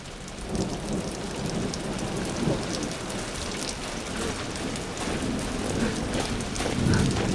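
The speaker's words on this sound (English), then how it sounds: "Can you hear the rain?" Steady rain pours down in a dense, even hiss, with low rumbles suggesting distant thunder rolling beneath it throughout.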